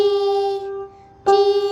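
A single sustained piano note rings and fades, then another note, G, is struck sharply and holds.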